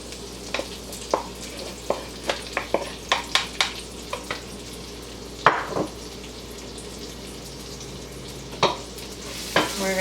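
A garlic and onion mixture sizzles in seasoned butter in a hot pan for an Asiago frittata, a quiet steady hiss punctuated by sharp clicks and scrapes of a utensil against the pan.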